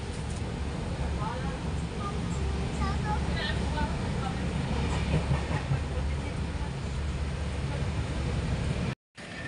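A moving train rumbles steadily with a low rolling drone and faint rattling, while people talk over it; the noise cuts out briefly near the end.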